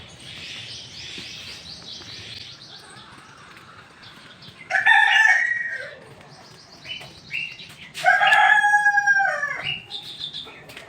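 Backyard chickens cluck softly, then a rooster crows loudly twice at close range at feeding time, with some bird chirps mixed in and no talk.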